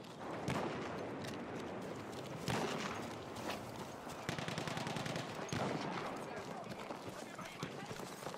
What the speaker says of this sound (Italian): Mitragliatrice!